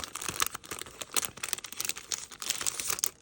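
Paper envelopes being handled, giving soft, quiet crinkling and rustling with scattered light taps and slides at close range, in a quiet room without talk.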